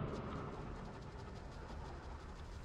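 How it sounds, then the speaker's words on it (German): A train in the video game Voidtrain rolls past with a steady rumbling roar and a faint rhythmic clatter, holding fairly constant at low volume with no voices. "Jupp. Zug ist durch."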